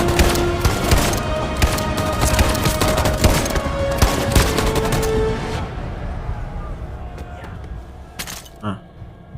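Dense gunfire from a Detroit: Become Human battle between androids and humans: rapid, overlapping shots and cracks in a loud, sustained barrage that thins out toward the end, with a few final bursts.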